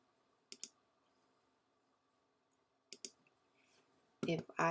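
A computer mouse clicking in a quiet room, a few sharp isolated clicks spaced seconds apart, followed by a short cluster of louder handling noises at the end.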